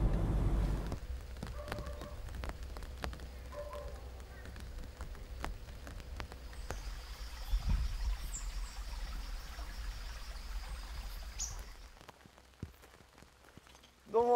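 Rain falls steadily on surfaces outdoors in a rural area on Ishigaki, a constant soft patter with scattered drips and faint background noise, ending with a brief sharp sound.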